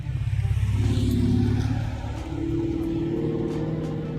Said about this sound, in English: I'm waiting for all of these cars to turn in.